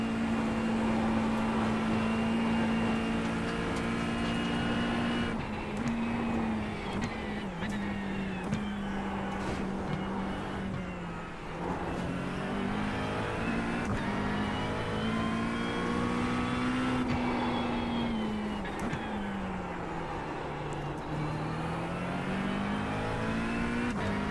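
A GT3 race car engine holds full throttle in the iRacing simulator, a loud, steady droning roar whose pitch climbs and dips repeatedly through gear changes and corners for the whole stretch, with no voice.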